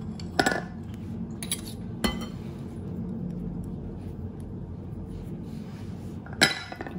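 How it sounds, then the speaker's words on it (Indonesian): A utensil stirring wheat flour, tapioca starch and a little salt in a bowl for dadar gulung batter, with a few sharp clinks against the bowl over a quiet kitchen background. "Kita aduk gini aja."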